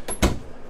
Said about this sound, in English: solid wood pocket door to close off for privacy from the living area into the hallway bathroom area